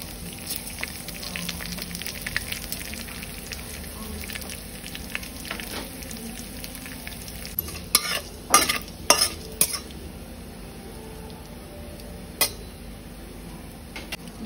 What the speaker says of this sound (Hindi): डालमा का छोंक लगाएंगे। मैंने ये ले लिया है 1 स्पून घी, 5 फोरन डालेंगे।